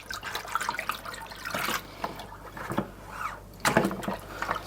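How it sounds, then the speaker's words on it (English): A batch of honey is stirred in a large pot like a cauldron, with soft, irregular sloshing and scraping strokes close by, rising and falling in uneven bursts. "Stirring it like it's a cauldron."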